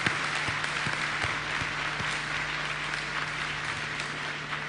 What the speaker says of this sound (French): afin que nous puissions vous applaudir